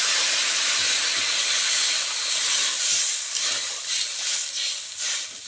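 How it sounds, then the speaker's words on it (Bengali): Water poured into a hot pan of spiced chicken curry sends up a loud, continuous steaming hiss with uneven surges, close by and without voices. "কষানো হয়ে গেছে, দিয়ে দিল জল।"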